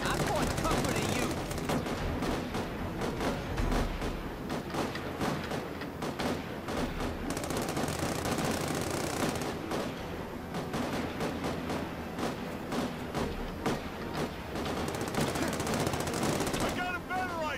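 Sustained gunfire in The Amazing Spider-Man 2 video game, with rapid bursts of shots repeating densely for many seconds, loud and close, mixed with game sound effects.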